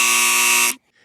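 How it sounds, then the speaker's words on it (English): A game show buzzer sounds on a clean energy talk show, a single loud, harsh, steady electronic buzz lasting most of a second before cutting off abruptly. "Otherwise, you get the buzzer."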